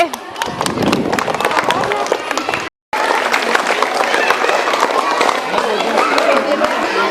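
Schoolchildren at a primary school event clap together in a lively burst, dense and close, with shouting and chatter mixed in; a brief gap breaks the sound before the clapping and crowd noise resume.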